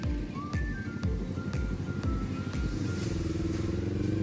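A 2022 Kawasaki Ninja 400, a 400cc twin-cylinder four-stroke motorcycle, idles with a steady, throbbing engine note and mechanical clatter. It is close and continuous, with no talk.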